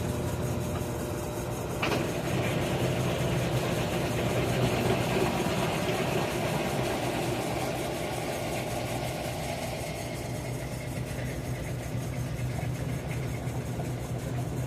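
A Whirlpool WTW4816FW3 top-load washing machine with a fault spins its drum, a steady low motor hum and whir running continuously at close range.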